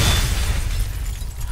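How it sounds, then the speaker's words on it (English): An explosion in the Garry's Mod video game, a deep low rumbling boom that starts loud and slowly fades over about a second and a half. "I heard an explosion."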